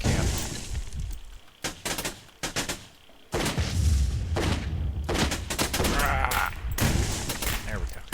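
Gunfire in the shooter video game Rogue Planet 2, a series of sharp, loud bursts of shots with brief pauses between them, then a denser stretch of continuous firing and rumbling booms.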